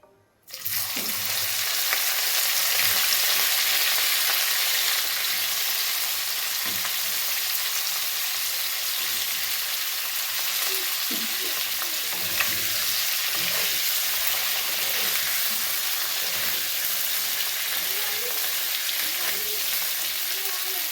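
Cauliflower pieces fry in hot oil in a pan for a Bengali-style cauliflower roast, giving a loud, steady sizzle with occasional scraping and stirring knocks, close up, with no talking.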